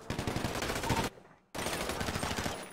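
Rapid automatic gunfire in a GTA roleplay shootout, dense loud bursts that cut out briefly for about half a second and then resume just as hard.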